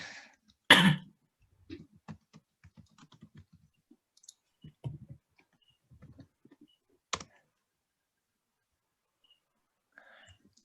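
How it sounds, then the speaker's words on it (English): Someone typing on a computer keyboard in a quiet room, sparse light key clicks in short bursts, preceded by a loud throat clear or cough. "Wait, let me type it"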